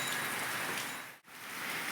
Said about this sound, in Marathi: 10 वाजल्यापासून पाऊस चालू आहे